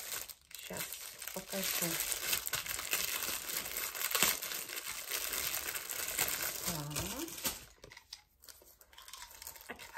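A plastic packaging bag from an online-shop unboxing is crinkled and torn open close up, a busy continuous rustle with sharp crackles, while someone talks over it.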